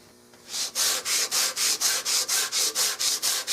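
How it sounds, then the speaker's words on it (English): Sandpaper rubs briskly over a wooden stock for an H&R Model 12 target rifle in steady back-and-forth strokes, about twelve loud, even, rhythmic rasps heard up close after a brief quiet start. "And then I sand them."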